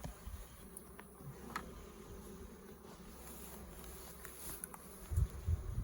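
Honeybees from a newly installed package drone steadily around a hive, a soft continuous buzz close by with faint passing whines and a few low thumps at the end.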